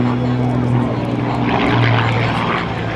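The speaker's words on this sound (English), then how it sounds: "How about a 4-point hesitation roll?" An aerobatic propeller airplane flies a hesitation roll at a military joint services open house air show, its engine a continuous loud droning hum with a faint shifting tone throughout.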